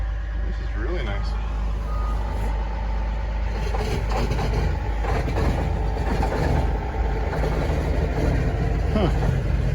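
A truck with a Detroit Diesel Series 60 engine and an 18-speed transmission idles nearby with a steady low rumble throughout, while reversing beeps and other yard noises sound in the background.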